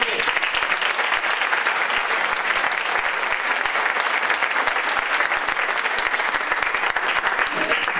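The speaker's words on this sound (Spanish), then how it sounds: "Vamos a dar un aplauso al presentador, hombre." Audience applause for the presenter at a Canarian folk group event in Adeje, steady dense clapping that runs unbroken for about eight seconds, loud and close with no talk over it.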